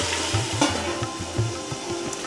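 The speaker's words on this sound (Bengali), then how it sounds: "নুন দিয়ে ভালো করে নেড়ে চেড়ে নুনটাকে ভালো করে এর সাথে মাখিয়ে" A spoon rhythmically stirs mutton with salt and spices in a pot for a mutton potato curry, giving close scraping strokes over a soft sizzle, roughly twice a second.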